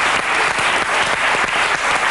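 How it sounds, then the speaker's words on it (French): Studio audience applause on a French television game show, dense and steady clapping throughout with no voices heard over it. "On vous applaudit."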